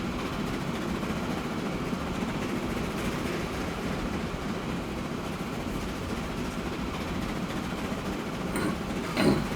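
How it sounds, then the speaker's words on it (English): A train in the Transport Fever 2 game runs steadily along its rails, a continuous dense rumble and rolling roar holding at even loudness throughout, with a brief sharper rattle near the end. "This train is carrying a good bit of sound."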